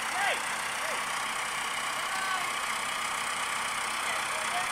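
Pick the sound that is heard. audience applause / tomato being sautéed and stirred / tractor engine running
tractor engine running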